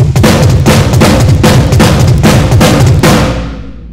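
A fast drum pattern on floor tom and snare played up to speed, a dense, loud, rapid stream of close hits for about three seconds before ringing out and fading.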